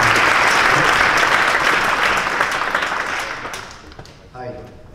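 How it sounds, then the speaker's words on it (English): Warm applause from a TEDxRotterdam audience, dense and loud at first and then gradually tapering off, with a voice speaking faintly beneath the clapping as it fades. "A warm applause for Jonas Martens on the back."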